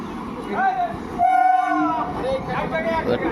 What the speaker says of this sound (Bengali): ওই যে আমাদের ট্রেন চলে এসছে